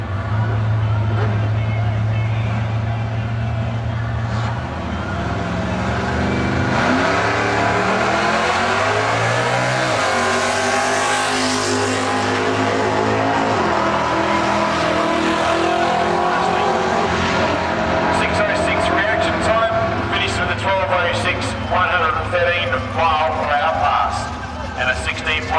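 Drag racing cars, a Torana hatchback and a Holden Berliner, roar down the strip with loud revving engines rising and shifting in pitch, heard close over crowd noise and a commentator talking.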